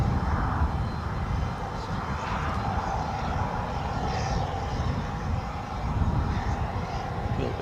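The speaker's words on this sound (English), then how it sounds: "All goes well for the 777 departure." A Boeing 777 airliner departs Newcastle airport, producing a steady, loud jet roar that fills the whole stretch, with wind buffeting the microphone.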